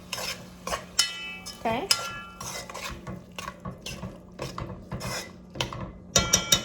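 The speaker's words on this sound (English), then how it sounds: "Then we're gonna mix everything." Puerto Rican rice mixture (arroz con gandules) being stirred in a pot, with repeated scraping and clinking strokes of a utensil against the metal in an irregular rhythm, close and fairly loud, with a brief spoken word.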